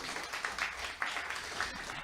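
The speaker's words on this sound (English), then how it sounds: "Give her a round of applause for coming up." Theatre audience applauds a volunteer coming up on stage, a soft, continuous wash of many hands clapping at moderate distance.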